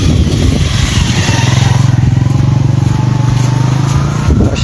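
A motorcycle engine roars loudly and close by with a steady droning pitch, holding for several seconds before starting to fade.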